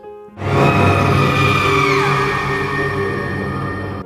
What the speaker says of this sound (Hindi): एक जोरदार चीख सुनाई दी